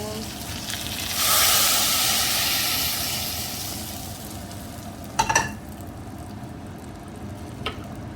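Chicken dal is stirred in a pot, a loud hissing sizzle that swells early then eases, followed by a couple of brief sharp clatters of a spoon against the pot, close by.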